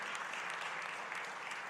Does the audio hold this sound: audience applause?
yes